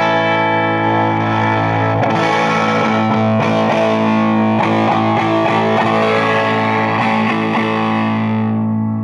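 An electric guitar chord strummed repeatedly through a Fuchs Blackjack 21 amp, with the guitar volume turned partway down, sounds thick and lightly broken up, loud and sustained before fading at the end.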